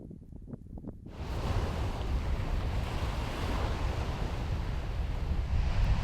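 Sea waves and strong wind roar continuously along the sandy Darss Peninsula coast, a dense, loud rushing wash after a brief quieter lead-in with a few soft thumps.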